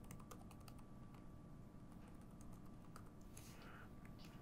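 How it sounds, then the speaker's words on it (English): Close, quiet keystrokes on a computer keyboard as a Wi-Fi password is entered during setup of a Jackal UGV robot, a quick irregular run of taps over low steady background hum. "So you type in your password"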